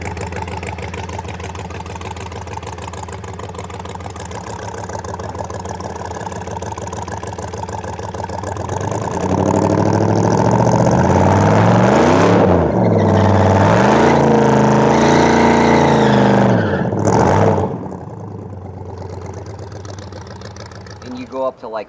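A 1100-horsepower Cuda with a swapped Redeye engine idles with a rough, loud rumble, then revs up hard, holds a high, whining rev for several seconds, and drops back to idle.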